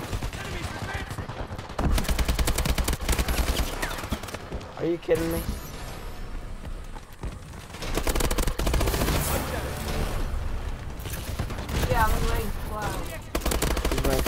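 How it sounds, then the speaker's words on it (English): Call of Duty: Advanced Warfare online match, with dense gunfire and explosions rolling almost constantly, loud and close, broken by short lulls, while a player talks over the battle noise. "look at all the explosions happening"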